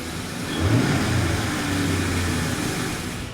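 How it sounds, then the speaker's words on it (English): A 1996-2004 Ford Mustang V8 with a BBK throttle body, intake plenum and cold air kit idles nearby with a low, steady rumble after a brief rise in revs, holding an even tone. "It's settled into a nice idle."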